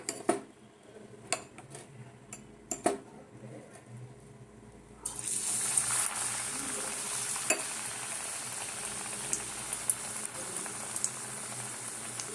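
Potato chops frying in hot oil, starting with a few sharp clinks of utensils in a quiet kitchen before a sudden, steady broadband sizzle sets in and carries on close and even.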